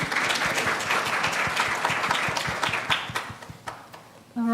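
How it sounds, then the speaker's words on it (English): Audience applause for a student presenter at a symposium, a dense burst of clapping that thins out and fades toward the end, then a voice begins. "We can give her another hand of applause."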